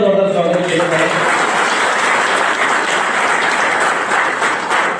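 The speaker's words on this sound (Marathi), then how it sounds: "या संस्थेचे आपण मनापासून टाळ्या वाजून एकदा जोरदार स्वागत केलं पाहिजे" Audience clapping in welcome of an organisation at the Rajgad fort festival, a dense, steady wash of applause filling the space throughout, with some voices heard briefly at the start.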